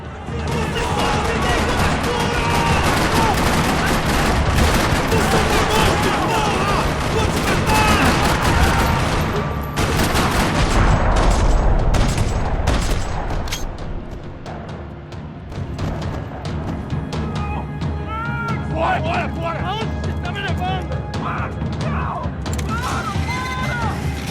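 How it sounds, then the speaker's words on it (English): Bursts of gunfire and rattling mechanical clatter fill a parking lot in Max Payne 3, loud and dense at first, then thinning out, with voices talking in between. "Another parking lot rattling with gunfire."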